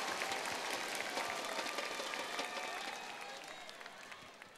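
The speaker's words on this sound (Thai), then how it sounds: "ขอเสียงปรบมือให้มือกีตาร์สาวที่มาฟีเจอริ่งให้อยู่ทางด้านหลังนะครับขอเสียงปรบมือดังๆครับ" Audience applause at a weekly concert for a female guest guitarist, a dense, steady wash of clapping that fades gradually toward the end.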